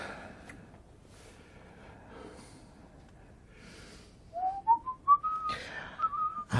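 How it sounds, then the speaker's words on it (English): A person whistles a short rising run of notes followed by a sustained tone, close by and fairly loud, after a quiet stretch with faint breathing. "don't whistle"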